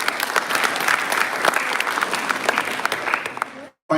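An audience at a Bharatha Natyam arangettam performance claps steadily, a dense, lively applause filling the hall before cutting off abruptly near the end.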